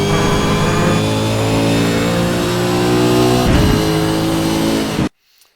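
A race car engine at the Imola circuit revs hard and close, its harmonic whine rising steadily and then shifting as the gear changes, before cutting off abruptly into silence.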